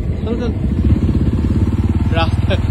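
A motorcycle riding along a waterlogged village road on a rainy day near the India–Bangladesh border, its engine a steady close putter throughout, with brief voices over it.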